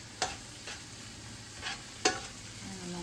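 Tuscan chicken with spinach cooking in a pan, a soft steady sizzle with a few quiet scrapes of stirring spaced out across the moment, faint and close, no voices.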